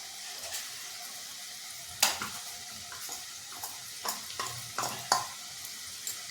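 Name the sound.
sautéing spices with garam masala for masoor dal amti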